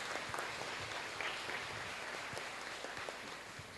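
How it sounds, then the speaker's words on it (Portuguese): Faint, distant clapping from a congregation at Mass, steady and diffuse with a few sharper claps standing out. "Vamos acolher os nossos irmãos com a calorosa salva de palmas."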